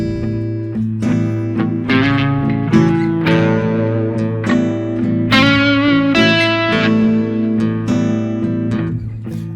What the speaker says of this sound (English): And now we have an Mixolydian lick, which is common use actually, more or less. And it sounds like this.